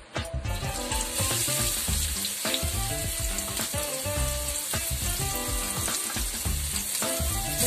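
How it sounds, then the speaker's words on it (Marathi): Onion frying in hot oil for a homemade Malvani val bean curry, loud dense crackling sizzle right from the start, continuous and close with occasional stirring scrapes, no one speaking. "तेल गरम झालंय, आता मी त्यात कांदा टाकते।"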